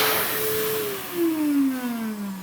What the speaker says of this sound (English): Did you hear the sound the hand dryer made?